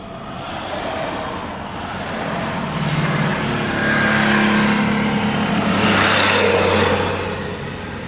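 Road traffic at a busy main-road intersection: a continuous wash of car engines and tyre noise, with vehicles rising and passing, swelling louder in the middle and trailing off.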